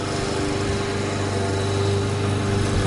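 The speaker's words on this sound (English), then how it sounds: "Dad's mowing his weeds" A lawn mower runs steadily throughout, a loud, close, continuous engine drone with a constant pitch and no pauses, cutting through weeds.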